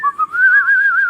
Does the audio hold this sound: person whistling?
yes